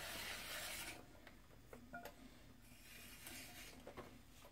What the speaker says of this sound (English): I'm going to take my wooden trimming tool and just clean it up a little